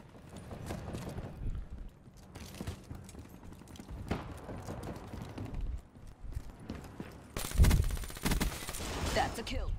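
Gunfire in a shooting video game: scattered shots and short bursts over the game's background noise, ending in a louder, denser volley near the close, with a voice briefly talking.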